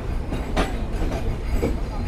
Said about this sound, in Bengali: বিকেল 6টা 40 মিনিটে আমাদের ট্রেন ছেড়ে গেল মোবারকগঞ্জ রেলওয়ে স্টেশন থেকে